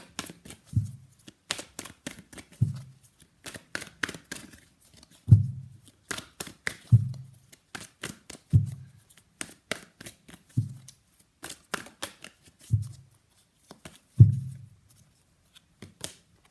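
Tarot cards being shuffled in repeated bursts, each riffle a crisp papery flutter ending in a soft thump as the deck settles, close by and with no one talking.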